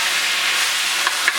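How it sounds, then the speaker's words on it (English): Hunan chicken stir fries in sauce in a hot pan, giving a steady broad sizzle and hiss with a couple of small pops near the end, close and continuous. "We're going to stir fry it all along the cooking process here."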